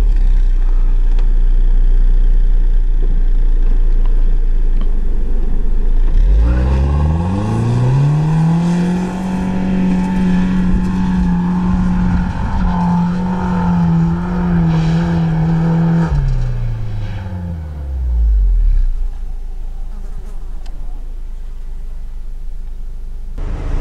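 A Lada Niva off-road car's old 2-litre engine idles, then revs up sharply and holds a high, strained drone for about ten seconds before dropping back to a low idle.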